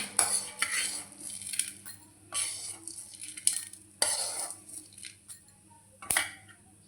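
Fried drumstick leaves being scooped with a metal spoon into a bowl, a series of sharp clinks and scrapes against metal and dishware in irregular bursts, close and clear without talk.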